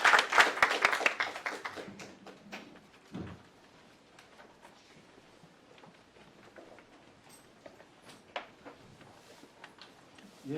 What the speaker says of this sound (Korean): 김순 이사장님 큰 박수를 모시겠습니다.